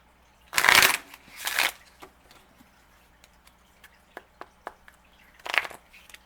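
Oracle cards being shuffled in three brisk riffling bursts, with a few light ticks and taps from the cards between them, close and alone with no talk.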